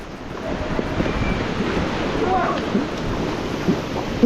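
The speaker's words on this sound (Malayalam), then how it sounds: "എന്തിനാ ഈ വെള്ളച്ചാട്ടത്തിൽ പോണേ?" A waterfall near Pahalgam roars as a steady, dense wash of falling water, loud and close, with a few faint scattered sounds on top.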